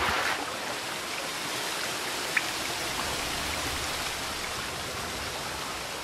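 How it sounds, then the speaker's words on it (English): A small waterfall in The Witcher 3: Wild Hunt rushes as a steady, dense roar of falling water that stays even throughout, with no talking over it. "Nice little waterfall we got here, isn't it?"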